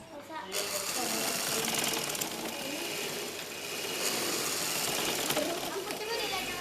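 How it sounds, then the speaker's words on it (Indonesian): A sewing machine runs a straight seam, a fast continuous mechanical whirring with brief pauses and restarts, while someone talks over it. "ini dijahit lurus kan Ya. Sampai bawah, jangan sampai bengkok-bengkok"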